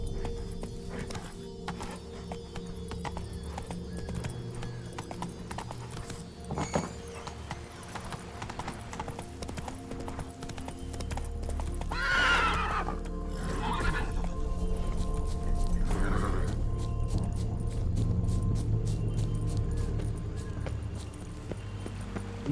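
Roach the horse galloping in The Witcher 3: Wild Hunt, steady hoofbeats clip-clopping with a brief whinny, set against a continuous game soundscape that swells midway.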